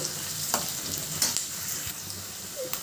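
Onion and green chillies fry in oil in a pan, giving a soft steady sizzle with a few distinct scrapes and taps of a stirring spoon, close but fairly quiet, with no voices.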